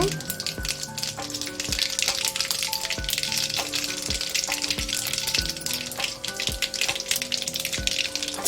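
Asafoetida, mustard seeds, cumin and urad dal tempering in hot oil for a cluster bean palya, a dense, steady sizzle crackling with frequent pops and a few low thumps, close and loud, with no talking.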